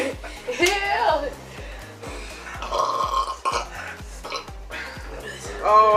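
Loud, drawn-out burp during a soda-drinking challenge, with clinking dishes and glassware around it and people talking and laughing between the belches.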